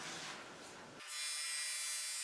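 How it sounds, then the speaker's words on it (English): A board planer thicknesses wooden guitar side boards, a faint rubbing whir for a second before the machine rises into a steady, bright, high-pitched whine. "let me run this through the board planer"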